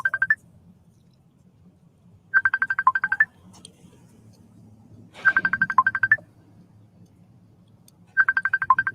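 A mobile phone ringtone rings in four repeated bursts of bright electronic chirps with short gaps between them, over a low background hum and faint room noise.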